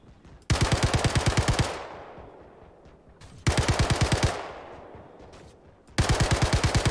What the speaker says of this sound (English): It's hard to tell where the shots are coming from.